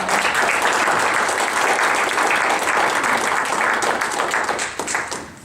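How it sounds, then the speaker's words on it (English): An audience gives a round of applause for theater doctoral candidates, steady dense clapping that holds evenly and then tapers off near the end. "If we could give them a round of applause."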